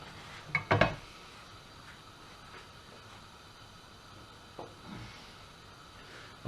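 A frying pan set down on a hob gives a sharp metallic clatter and knock near the start, followed by quiet room tone and a softer clunk later.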